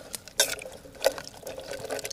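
Water poured into a cooking pot outdoors on a taiga camping trip while making a stew of saranka lily bulbs and wild garlic; a faint, brief splash and trickle, quiet and close.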